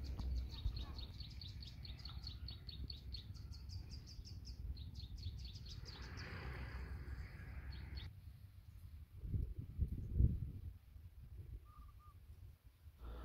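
Birds chirp in quick repeated calls above a steady breezy rush of wind, with a few louder gusts near the end, at the Bhre Wengker Majapahit palace site in Kumitir.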